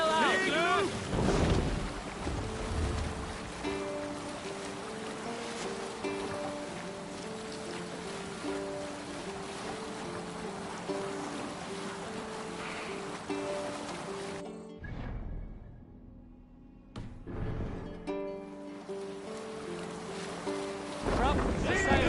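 A sailing ship moves across open sea in Assassin's Creed Valhalla, with steady wind and wave wash over a low musical bed, broken by a brief near-silent gap before the ocean ambience resumes.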